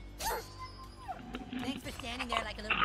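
A dog whimpers and yips in the video game South Park: The Fractured But Whole, brief high whines mixed with game sounds while a person talks over them.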